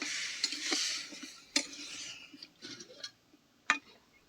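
Cut lemon pieces with salt and turmeric are stirred in a pan, making scraping strokes and sharp knocks against the metal over a faint intermittent sizzle, heard close with no talking.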